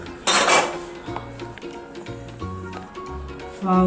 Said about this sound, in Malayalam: ഇനി നമുക്ക് തുറന്ന് നോക്കാം.